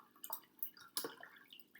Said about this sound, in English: I'm gonna need to add a little extra water so that second node